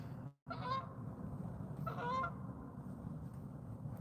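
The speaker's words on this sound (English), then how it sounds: "There's some more geese." Geese honk near a beach, two short bursts of nasal calls about a second apart, close and clear against steady low outdoor noise with no speech.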